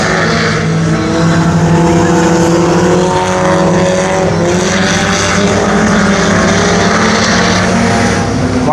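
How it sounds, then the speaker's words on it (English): Haymaker Custom Hornets race cars roar around the track at Brownstown Speedway during a heat race, loud and continuous engine drone with shifting pitch as several cars pass close by. "Looking like 2 laps left to go here for heat race number 1 in the Haymaker Custom Hornets"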